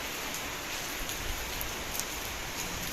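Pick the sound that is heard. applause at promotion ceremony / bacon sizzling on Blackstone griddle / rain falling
rain falling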